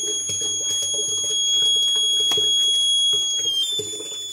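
An Arduino-based fire detection system sounds its alarm, a steady, piercing electronic tone held throughout, over irregular clicks and clatter nearby.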